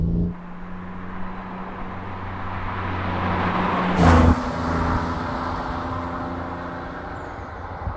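Renault Clio V6 Phase 1 engine heard from inside the well-insulated cabin, a steady low hum that swells briefly into a sharp rev before settling back to an even drone.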